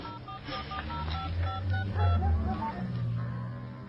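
Cell phone keypad dialing tones, a quick run of short beeping presses with brief gaps, heard close and clear over a low ambient hum.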